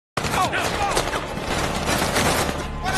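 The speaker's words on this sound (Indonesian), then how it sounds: "mereka diberi surprise berupa tembakan yang mengarah ke mobilnya." Rapid bursts of gunfire aimed at a car crackle densely and loudly throughout, with a continuous barrage of shots.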